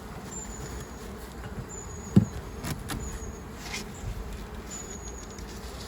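A small cast of bees at the hives of an urban city farm, a soft steady buzz of insects with faint passing whines and one brief knock, fairly quiet throughout.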